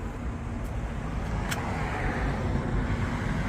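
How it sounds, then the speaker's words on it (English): Road traffic rolls past a rural roadside home, a steady low rumble of passing vehicles with a faint higher swish partway through, moderately close and with no voices. "you'll have to forgive the traffic noise because I live right up on the road"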